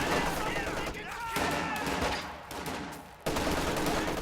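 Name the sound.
machine gun fire in Company of Heroes 2 video game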